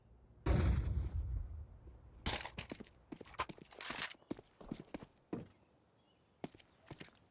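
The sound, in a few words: flashbang grenade thrown in video game Counter-Strike 2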